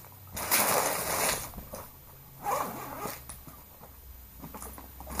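A Tourit soft cooler's zipper is pulled open in a few quick rasping strokes, close and moderately loud, with brief pauses between pulls and no talking.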